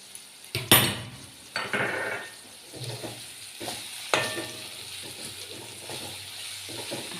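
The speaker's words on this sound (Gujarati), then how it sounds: "હવે ધીમા તાપે મૂળાને થોડી વાર ચડવા દઈશું." Radish sabji cooking in a pan over low heat, with soft scraping and clinking of a utensil against the pan at irregular intervals over a faint, steady sizzle.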